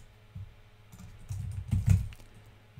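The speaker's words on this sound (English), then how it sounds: "So I'm going to type in gender." Computer keyboard typing while entering a variable name in R, a soft run of close key taps that gathers into a denser burst near the middle before trailing off, with no talking.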